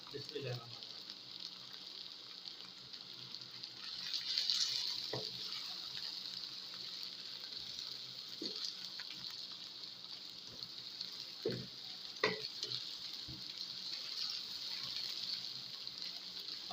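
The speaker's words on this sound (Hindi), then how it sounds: "अब इसको 2 मिनट के लिए भून के" Finely chopped, crushed green chillies fry with ginger-garlic paste in a pan, giving a steady close sizzle throughout with a few soft stirring knocks and scrapes.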